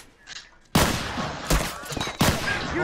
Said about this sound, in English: Can be a deadly rifle.